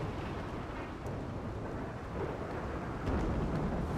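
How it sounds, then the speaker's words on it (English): Heavy rain pours down during a thunderstorm in the game RimWorld, a dense continuous roar of rainfall with low rumbling thunder that swells louder near the end, with no voices. "speaking of rain, now it's pouring down"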